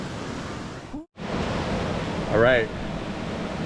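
San Roque Falls in the Philippines rushes as a steady broadband roar, loud and continuous apart from a brief dropout, with a voice speaking briefly over it.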